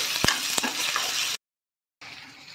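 Chopped onions frying in a pan for a chickpea curry, with a steady broadband sizzle and a few stirring clicks near the start, a brief silent gap, then the sizzle resumes.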